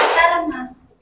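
A class of children at an Indonesian primary school lesson gives one short clap together, a single sharp burst that rings out briefly and fades within a second.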